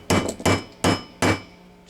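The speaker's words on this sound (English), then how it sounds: "again, a nylon hammer so you don't mar your finish on your old gun," A nylon hammer tapping a part of an old Husqvarna 1870 rolling block rifle flush during reassembly: four sharp, evenly spaced knocks, loud and close, with no voice.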